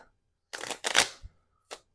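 Playing cards are shuffled for a tabletop game, two quick riffling bursts in close succession followed by a short tap, close and crisp with no talking.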